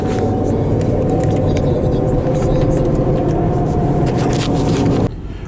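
A Chevy Suburban cruising at low speed, a loud steady engine and road drone from inside the cabin that cuts off abruptly near the end.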